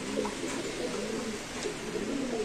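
Pigeons at a pigeon market give soft, repeated throaty coos close by, over a faint busy background murmur.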